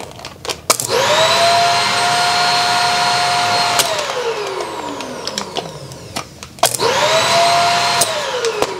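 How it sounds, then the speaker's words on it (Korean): A vacuum cleaner powered through a camper van inverter and relay transfer switch whirs up to a loud steady whine, then spins down with a falling pitch, before starting up again after a few clicks. "그러면 다시 청소기를 돌려볼게요."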